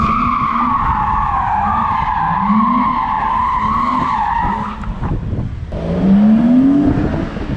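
A drifting BMW E34 530i with a welded differential skids its tires in a long continuous squeal with wavering pitch, breaking off briefly near the middle before another rising screech, loud and close with engine drone underneath.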